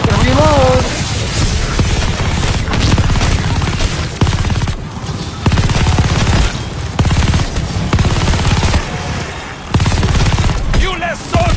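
Rapid bursts of automatic gunfire from Call of Duty Vanguard zombies mode rattle almost continuously, loud and close, broken by brief pauses, with players talking over the shooting.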